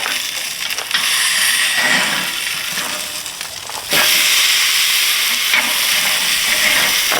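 An A5 Wagyu ribeye steak sizzles loudly and steadily on a hot grill after being flipped, a dense continuous hiss and crackle that swells sharply partway through.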